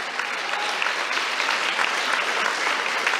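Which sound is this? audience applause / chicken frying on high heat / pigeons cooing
audience applause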